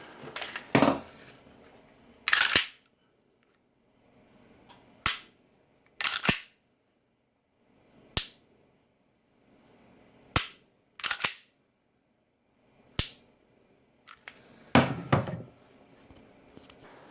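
Smith & Wesson M&P45c compact pistol trigger resetting, heard as about a dozen sharp, isolated clicks at irregular intervals, crisp and close, with quiet gaps between them and no talking.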